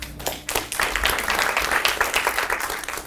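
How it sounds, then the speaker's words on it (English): An audience applauds after the introduction of a talk on marijuana from weed to medicine, with dense, steady clapping filling the room for a few seconds. "Big round of applause, please."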